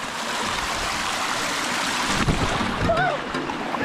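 Mountain stream in a winter valley flowing steadily with a broad, continuous rush of water, close and even throughout, with a brief louder splash near the end.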